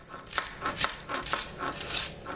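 A knife chops a huge onion on a board in a home kitchen, about eight steady, evenly spaced thunks, close but fairly soft, with no talking.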